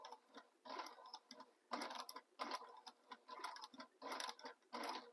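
A sewing machine stitches a tote bag corner in short, quiet bursts of mechanical whirring and clicking, several stop-start runs separated by brief pauses, close and faint.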